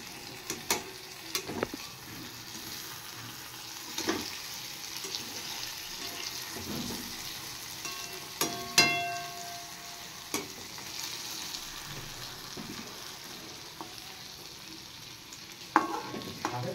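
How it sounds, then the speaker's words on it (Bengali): Puti fish fry in a pan as their liquid cooks off, giving a low, steady sizzle with scattered scrapes and taps of a spoon stirring, quiet and close. "মাছের জলটা শুকিয়ে এসছে, এবার একটু নাড়িয়ে দিই"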